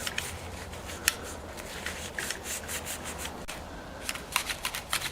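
Soft, steady rubbing and wiping close up on a Fender Jazzmaster pickguard, a scratchy cloth-on-plastic sound with small irregular squeaks and scuffs.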